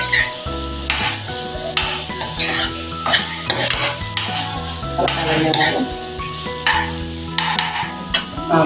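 Boiled prawns with turmeric and salt stirred in a pan, a run of loud metallic clanks and scrapes of a spoon against the vessel in uneven bursts, with a faint sizzle underneath.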